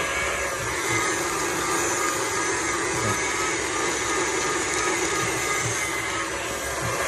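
A stand mixer mixing challah dough, a loud, steady, close motor whir with a faint rhythmic knocking underneath, continuous throughout.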